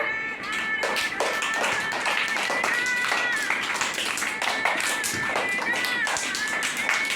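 A group of children clap in quick, uneven bursts while a lively song plays and voices chatter over it.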